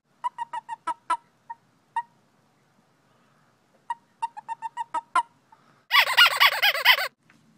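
A small California toad gives a series of short, sharp chirps in quick bursts, close and clear, followed by a louder wavering trill.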